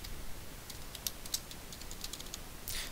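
Typing a password on a computer keyboard, a quick run of light, close key clicks in an uneven rhythm against a quiet background, with no voices.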